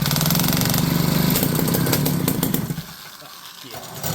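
A 3D printed small engine, flooded with fuel, roars loudly at close range with a harsh buzzing rattle, then sputters and dies away after nearly three seconds, leaving a quiet hiss.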